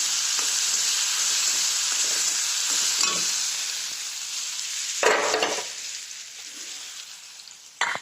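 Safflower greens with onion and ginger sizzle loudly in a hot pan, a constant bright frying hiss with bursts of stirring scrapes from a spatula, close and continuous with no voices.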